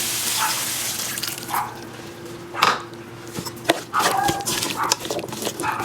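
Puppies react to a passing fire truck with short, faint yips and whines, heard in scattered bursts over kitchen sounds of chopping and a running tap.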